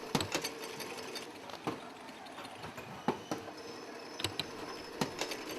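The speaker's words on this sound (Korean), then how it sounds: "재봉틀처럼 생긴 기계에 고정시키고 아랫부분 두 군데를 실로 엮어서 고정합니다." A sewing-machine-like machine stitching thread around the base of badminton shuttlecock feathers clicks and ratchets in a steady mechanical rhythm, with sharper ticks every second or so against a soft whirring background.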